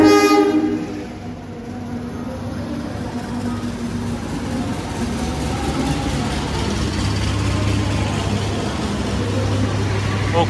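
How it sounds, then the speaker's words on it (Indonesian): Kutojaya Utara train pulling into Kebumen station, a steady heavy rumble of rail cars with a long sustained horn tone running underneath throughout, fairly loud and close, no talking. "Dari sana ada kereta api yang masuk teman-teman."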